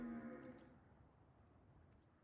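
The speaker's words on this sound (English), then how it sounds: "play a 5/5 that goes moo when it enters the battlefield" A cow moos from a creature card entering the battlefield in a Magic: The Gathering Timeless match, one loud drawn-out low call that fades quickly into quiet background.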